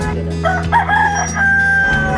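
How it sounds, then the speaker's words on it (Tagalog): A rooster crows once, loud and close, its drawn-out call ringing clearly over a quiet background. "Tuwing titilaok ang manok, alam kong may kasalubungan akong magandang araw."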